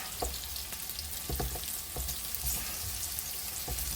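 Cubed potatoes and vegetables with garlic sauté in a hot pan, giving a constant close sizzle broken by several sharp knocks and scrapes of stirring.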